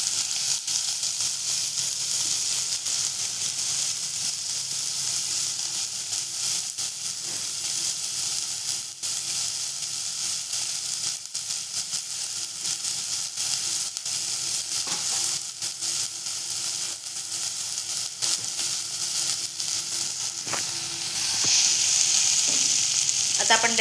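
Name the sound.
sautéing onions in a pan for ivy gourd and bean curry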